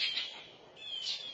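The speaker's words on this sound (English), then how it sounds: "That's why those birds are freaking out." Agitated birds call in sharp, high chirping bursts near a baby mockingbird on the ground, two clustered outbursts with a short lull between, fairly faint and without voices.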